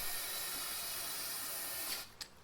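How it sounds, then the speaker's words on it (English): A hand spray bottle spritzes into the tubular handlebar of a lawn mower, a steady airy hiss running for about two seconds before a couple of short, sharper spray bursts near the end, close and fairly quiet with no talking. "Taking my spray bottle, sticking it in, spraying and pulling out."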